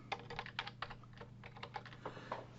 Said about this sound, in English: if at my interactive shell I type